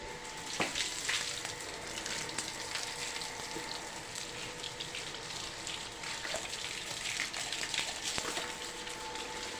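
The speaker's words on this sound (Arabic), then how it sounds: "رجعت وياكم اغسل الطرمه" Water gushes steadily across a home terrace floor as it is washed down, a constant rushing hiss broken by occasional splashes and knocks, with no one speaking.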